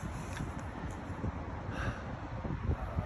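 Steady low rumble of wind buffeting outdoors, with soft gusts swelling and fading; no voices.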